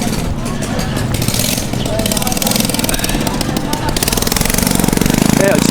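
Motorbike engine puttering close by on a busy city street in the Philippines, a steady rattling drone with traffic clatter around it, growing a bit louder toward the end.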